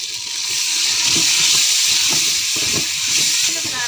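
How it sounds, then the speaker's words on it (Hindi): Spices and dal mash roasting in a pot: a steady, close sizzle and hiss of frying with soft scraping stirs at intervals, no talking. "अब इसको आहिस्ता आहिस्ता भून लेते हैं।"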